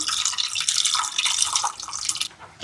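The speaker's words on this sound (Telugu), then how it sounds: "వాటరు మొత్తానికి ఒక రెండు గ్లాసులన్నీ నీళ్ళు వేసుకుందాం" Water poured into a pot of pepper rasam, a steady bright splashing stream lasting over two seconds, close and fairly loud, then stopping abruptly.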